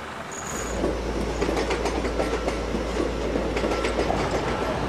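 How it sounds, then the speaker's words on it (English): A local passenger train passes through St Pancras station with a steady, close rumble and rhythmic wheel clatter that holds at one level throughout, with no voices. "But local trains come and go, day and night."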